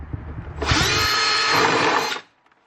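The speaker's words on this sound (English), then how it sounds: "I'm going to drill a hole on one of the" A power drill bites into the plastic air intake box of a Camaro, one loud continuous whirring burst of about a second and a half that stops abruptly, with faint handling noises before it.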